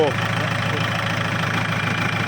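A Kubota L4708 tractor engine fitted with a turbo kit runs at a steady idle, a close, even diesel chug with a rhythmic knock throughout, while someone talks.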